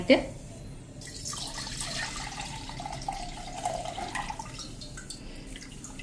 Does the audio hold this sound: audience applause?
no